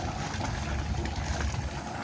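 A Yanmar 3YM30 marine diesel engine on a Sunrise 34 sailboat runs at a steady, close, continuous rumble with a broad noisy texture and no talking.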